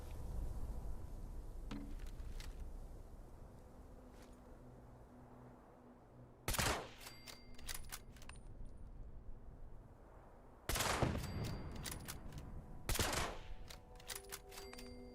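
Rifle shots from the game Fallout crack out in a few sharp, distinct bursts, some single and some in quick pairs, over a quiet, low ambient background.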